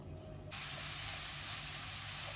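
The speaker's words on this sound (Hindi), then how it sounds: "इस पैन में हम इसे थोड़ा सा ड्राई रोस्ट करेंगे ताकि इसका जो सारा पानी है वो अपने आप ही" Grated radish dry-roasting in a pan on low gas gives off a steady, soft steaming hiss that starts abruptly and continues evenly at close range.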